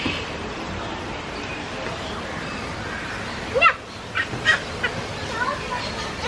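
Bird calls echo through a walk-through aviary at Loro Parque in Tenerife, with a steady background chatter and a few louder, sharper calls near the end.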